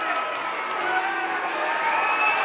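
Crowd at a boxing match in Galway reacting with disapproval, a dense roar of voices and shouts spread through the hall, steady and fairly loud across the whole stretch, with no single voice standing out.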